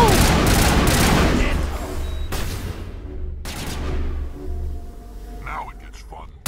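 Gunfire in the Mass Effect video game: dense, loud bursts of rapid shots dominate the opening seconds, then fade to rumbling tails and scattered effects, with a voice speaking over it.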